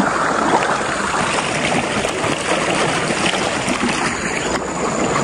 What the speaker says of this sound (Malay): Sungai ni sungai kecil bukan sungai besar